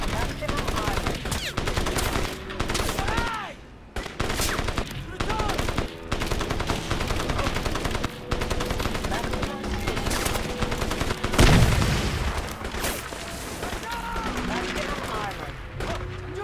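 Gunfire rattles almost nonstop through a Crysis island battle, rapid machine-gun bursts with a heavy blast near the middle, loud and dense, with a voice speaking over the shooting at times.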